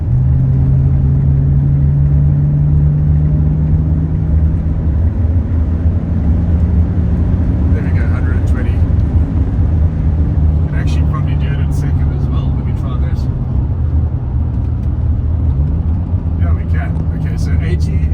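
A 2006 Ford Territory Ghia engine roars under full-throttle acceleration on the road, a steady loud drone whose pitch climbs and drops with gear changes, with a voice speaking briefly over it.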